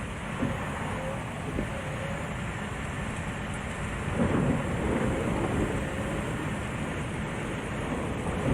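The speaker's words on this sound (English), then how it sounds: "Oh, yeah, that thunder, man." Steady rain and a low rumble of thunder in the Euro Truck Simulator 2 driving game, a constant dense wash of weather noise with a swell of rolling thunder midway.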